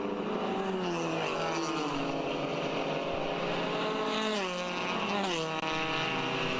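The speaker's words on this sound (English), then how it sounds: "The engines roar to life as they head down the front straightaway." Race car engines roar together at the start of a Road America endurance race, a loud, sustained multi-engine drone with rising and falling pitch sweeps as cars accelerate down the front straight.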